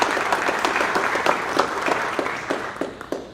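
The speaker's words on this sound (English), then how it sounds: "So if we give those guys a round of applause" A crowd at a board of education meeting applauds firemen and policemen with a steady roar of clapping, many hands blending into a continuous wash, with a few sharper claps standing out near the front.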